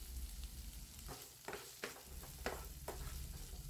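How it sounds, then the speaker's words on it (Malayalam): Chopped shallots and green chillies fry in a pan for Kerala-style prawn roast, a faint steady sizzle broken by a few soft scrapes and knocks of stirring, with no talking. "25-30 ചെറിയുള്ളി ചെറുതായി കട്ട് ചെയ്ത് ഇട്ട് കൊടുത്ത് നന്നായിട്ട് ഇളക്കി കൊടുക്കുക"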